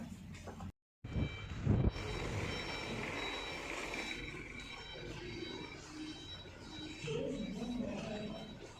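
A garbage truck reverses at a waste processing site in Trenggalek, its backup alarm beeping in a steady repeating pattern over engine rumble and yard noise, with faint voices in the background.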